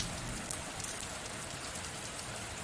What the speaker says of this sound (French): amener toute ton attention sur le bruit de la pluie.